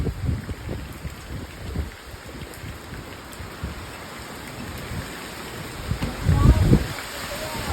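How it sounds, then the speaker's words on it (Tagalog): Heavy rain during a typhoon pours down as a dense, steady roar close by, swelling louder near the end, with a few faint voices underneath. "Lakas ng ulan."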